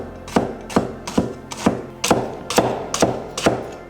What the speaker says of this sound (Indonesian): Yang pertama kita iris bawang bombaynya tipis-tipis.